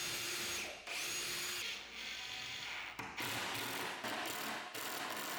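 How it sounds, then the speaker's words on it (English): A power drill drives pocket-hole screws into a plywood shelf, several loud sustained whirring runs broken by brief pauses, close and without talk. "I went around to the back and added a screw to secure the other end of each shelf"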